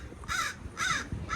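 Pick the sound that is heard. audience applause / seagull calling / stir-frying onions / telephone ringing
seagull calling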